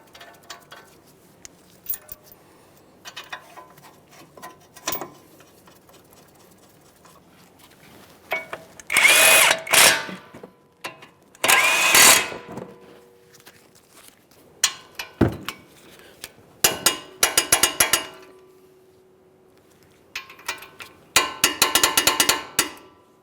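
Power tool bursts snugging the brake caliper bracket mounting bolts on a 2009-2014 Nissan Maxima front brake job, several short loud whirring runs separated by pauses and faint clicks, close up with no talking.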